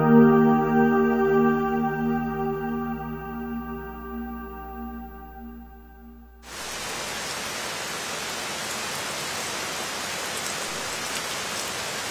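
Steady, even rain falls during the summer rainy season in Shangri-La, a close, dense hiss that rises sharply after a sustained musical passage fades out, then continues unbroken to the end.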